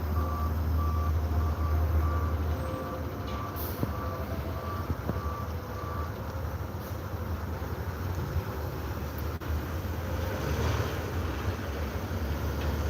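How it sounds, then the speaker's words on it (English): A truck stuck in place with its tires spinning, steady reversing beeps repeating over a constant low engine rumble throughout, with occasional short knocks and no talk. "He's stuck for a minute because his tires started spinning."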